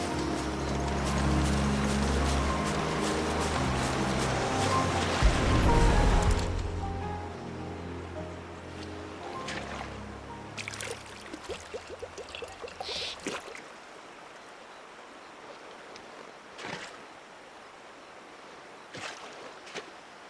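River water in Final Fantasy XVI: a loud rushing flow that drops away partway through, leaving a quieter wash with scattered splashes, footsteps and clicks.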